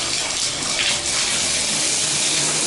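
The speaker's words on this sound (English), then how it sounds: "you can hear that we have nice solid water pressure" Shower head running at solid pressure, a steady dense rush of water spraying continuously and close by, with no voices.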